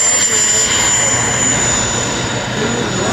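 An RC Saab J 35 Draken electric ducted fan model jet comes in to land at a flying field in St. George, Utah, its loud, steady high-pitched whine sustained throughout and close by.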